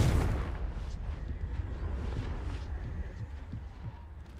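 In Hogwarts Legacy, a Confringo spell blast opens with a deep booming burst, and its low rumble trails off gradually over several seconds.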